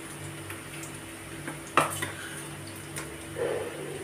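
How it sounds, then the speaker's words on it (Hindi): A spoon taps against a kadhai while besan kofta batter made from grated boiled vegetable with salt and chili is dropped in, giving a few sharp clinks and a soft plop, followed later by a brief low sizzle. "ऐसे चम्मच की मदद से मैं इसको कढ़ाई में डाल दी हूँ"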